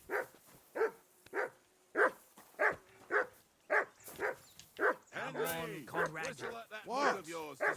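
A dog in the medieval video game Kingdom Come Deliverance 2 barks in a regular series of about ten sharp barks, then breaks into rapid higher yips and whimpering yelps, fairly close.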